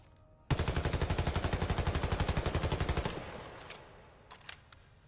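Automatic A-210 weapon in the video game Warface firing one sustained burst of rapid, evenly spaced shots for about two and a half seconds, loud and close, then a short reverberant tail and a few faint clicks.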